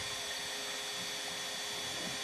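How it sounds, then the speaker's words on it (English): A heat gun blows steadily, a constant broadband whooshing hiss with no breaks, heard on its own at moderate loudness. "It's called a heat gun."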